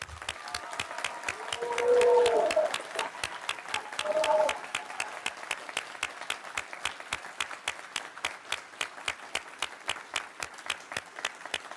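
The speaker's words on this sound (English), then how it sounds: "Let's give them all another round of applause" Sustained applause for graduates at a university hooding ceremony, steady dense clapping throughout with a couple of brief swells of cheering from the crowd early on.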